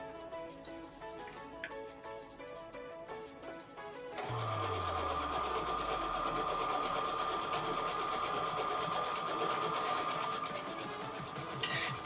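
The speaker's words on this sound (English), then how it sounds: "the foot pedal on my sewing machine is basically just an on-off switch" A sewing machine, its foot pedal a simple on-off switch, starts up after a few seconds of quiet music and runs steadily at a fast, even hum until the end.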